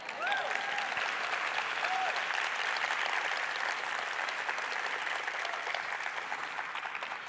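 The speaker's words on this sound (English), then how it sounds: "I think that's worth clapping for." Audience at a San Francisco conference breaking into sustained applause, a dense, even wash of clapping from many hands that fades slightly toward the end.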